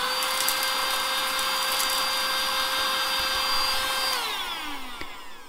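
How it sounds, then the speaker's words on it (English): A small vacuum cleaner built for cleaning Lego bricks runs with a steady high whine and airy rush, then its pitch drops as the motor winds down near the end; no voices. "there's something satisfying about vacuuming up Lego pieces"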